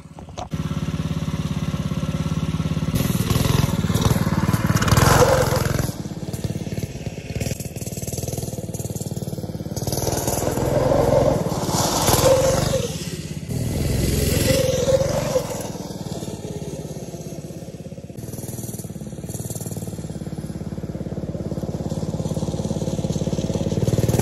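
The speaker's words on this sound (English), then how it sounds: "Well, the go-kart's running good again." A go-kart powered by a Predator 212 engine runs nearby, its motor revving up and down in uneven surges and easing back, loud and continuous throughout with no talking.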